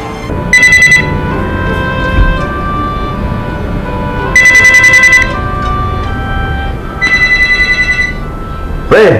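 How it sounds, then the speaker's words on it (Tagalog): A telephone rings in three separate bursts of trilling bells, spaced a few seconds apart, over steady background noise and occasional voices. "Pre, telepono pre."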